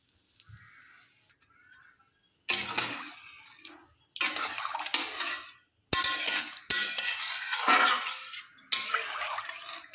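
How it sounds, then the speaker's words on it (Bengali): Water is poured into a pot of khichuri in three or four loud, splashing bursts separated by short pauses, with a faint clatter just before the first pour. "এবার জলটা দিয়ে দিই।"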